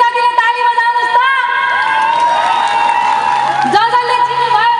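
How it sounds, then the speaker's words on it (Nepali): A live stage audience cheers and shouts with some clapping, loud and continuous throughout, while a voice carries over the crowd noise. "चिन्ने जतिले ताली बजाउनुहोस् त"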